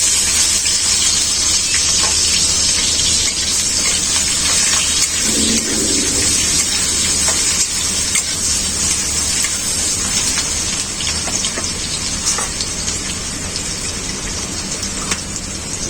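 Continuous loud sizzling hiss of onion frying in hot mustard oil, steady throughout, with faint scraping stirs now and then.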